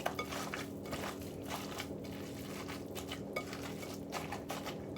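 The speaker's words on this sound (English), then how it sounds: "So now we just mix it all up." Squelching and pattering of raw meatball mixture seasoned with salt being mixed by hand in a bowl, soft irregular wet clicks and slaps repeating steadily for several seconds, close up and without speech.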